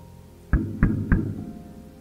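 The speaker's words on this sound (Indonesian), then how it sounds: "Ada suara ketukan cepat" Three quick, sharp knocks rap on a bedroom window at night in a horror audio story, evenly spaced and close against a low, steady background hum.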